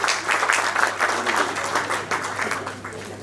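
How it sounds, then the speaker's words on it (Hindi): Applause at a community book launch event, a moderate crowd clapping in a lively, slightly uneven patter that stays fairly close and steady throughout. "ऐसे युवाओं के लिए तो तालियां बजनी चाहिए"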